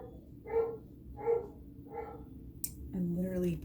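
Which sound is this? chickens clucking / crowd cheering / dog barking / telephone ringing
dog barking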